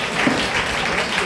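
A church congregation claps together in steady, dense applause filling the room, continuous and fairly loud throughout with no pauses.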